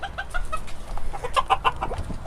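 Chickens, a hen and a rooster, clucking in a coop, with quick repeated clucks and short calls close by, busy and fairly loud, with no talk.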